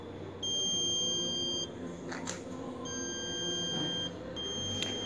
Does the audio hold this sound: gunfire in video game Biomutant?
no